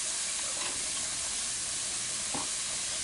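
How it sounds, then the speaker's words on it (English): Carrots sautéing in a pan, a steady broadband sizzle and hiss close by with a couple of faint stirring scrapes, alone without talk. "I'm going to saute it up just a little bit longer."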